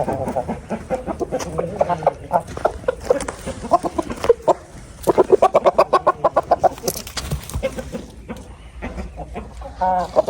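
Chickens cluck busily up close with three roosters among them, rapid bursts of clucking and squawks, with brief human voices in the background.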